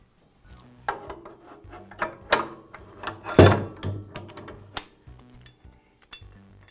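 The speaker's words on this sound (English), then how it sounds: "Now I can reinstall the vise." A metal vise is set back onto the base of a DeWALT chop saw, with a series of sharp clanks, clinks and knocks of metal on metal, one loud bang in the middle, close and without talk.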